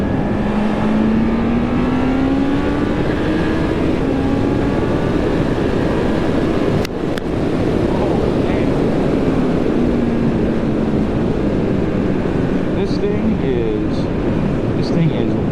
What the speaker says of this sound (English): It pulls so hard when you get up in the rev range.